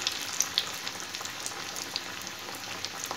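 Onion fritters made with lentils, water spinach and other greens fry in an iron wok, a dense steady crackle with small sharp pops throughout, close and without speech.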